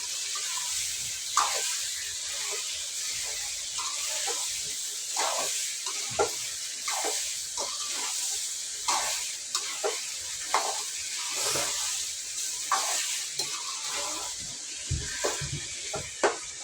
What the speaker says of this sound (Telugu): వంకాయ అలాగే పసుపు ఉప్పు వేసిన కదా, ఇవన్నీ బాగా కలిసేలాగా ఒకసారి కలుపుకోవాలి